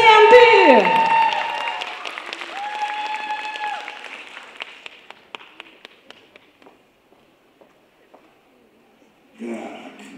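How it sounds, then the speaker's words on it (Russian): Audience applause at a cosplay stage show follows a loud game-style sound effect, then the clapping thins to scattered claps before a voice resumes. "Аплодисменты!"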